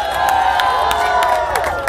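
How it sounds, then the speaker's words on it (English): A crowd claps and cheers at the TCS World 10K 2013 run costume award event, a steady, dense wash of applause with whistles and shouts rising above it throughout. "I think all of you deserve a bigger round of applause now"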